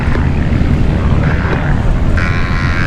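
A high-wing propeller airplane rolls for takeoff at the Oshkosh AirVenture fly-in, its engine a loud, steady drone with a broad rushing wash that holds close throughout, with no voices.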